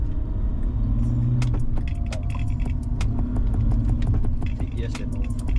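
Steady engine and road rumble from a track-day car driven slowly on the road, with rattling and jangling clicks from inside the cabin over the continuous low drone.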